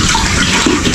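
Water splashes and gushes steadily at close range as it is squeezed out to wet something before soaping, loud and continuous with no talking.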